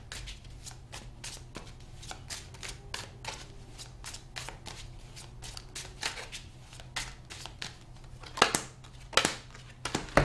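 Tarot cards shuffled steadily by hand, a dense run of soft riffling flicks and snaps throughout, with a few sharper card slaps near the end, close and alone over a low steady hum.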